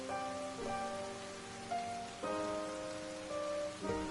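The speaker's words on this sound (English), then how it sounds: "You think me the sort of wretch to leave a child out in this horrid rain?" Steady rain falls in the Ender Lilies video game, a soft continuous hiss of drops on surfaces, heard alone beneath gentle sustained musical tones.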